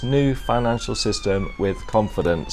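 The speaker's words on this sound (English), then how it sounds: "Apologies about the sirens in the background there." Someone talks steadily up close while a distant siren wails faintly in the background.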